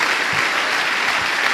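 A church congregation claps in steady, dense applause that fills the space evenly from start to finish, with no voice rising above it.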